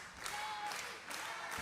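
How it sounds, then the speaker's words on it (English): Crowd at a SoCal Pro Wrestling show in Vista, California, applauding and cheering as a steady, dense wash of clapping and noise that swells briefly without pause. "very buoyant, very vocal in their support of Gnarly Charlie as Charlie hits line after line."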